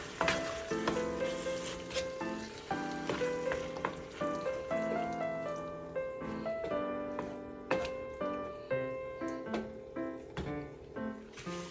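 Beef lasagna meat sauce sweetened with sugar gets mixed in a pot, with rhythmic scraping strokes repeating under a soft simmering sizzle and faint pan clinks.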